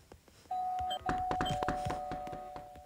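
A doorbell in the Roblox game Brookhaven gives a sustained two-tone ding-dong chime, heard fairly close over busy game sounds and clicks.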